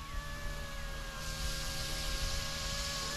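An RC Yuxiang F09 BlackHawk scale helicopter flying at a field, with a steady, fairly faint whine and rotor hum at an even distance.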